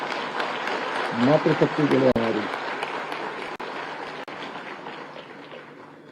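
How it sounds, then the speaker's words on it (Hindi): Audience applause at an award ceremony in Dehradun, Uttarakhand, a steady broad clatter of many hands continuing for several seconds while someone speaks over it through a PA at the start. "ताली बजाइए यार जोर से"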